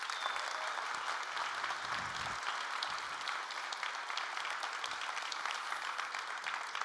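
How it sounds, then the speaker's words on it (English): Sustained applause from a large conference audience cheering meetup organizers at a tech keynote, a dense steady wash of clapping that carries evenly for several seconds with no one speaking. "a massive round of applause for them"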